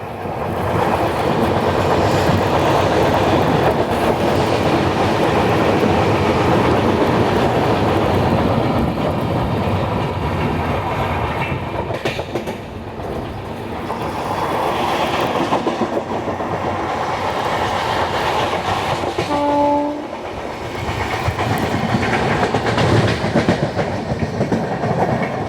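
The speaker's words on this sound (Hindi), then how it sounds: "यहाँ पे आप सामने ट्रेन देख पा रहे हैं, वो ट्रेन आ रही है कटिहार जंक्शन की तरफ से।" A passenger train of the Kolkata–Guwahati Garib Rath Express rolls steadily near Mukuria Junction with a loud, continuous rumble and wheel clatter, briefly dipping midway before resuming; a short tonal horn-like note sounds near the end.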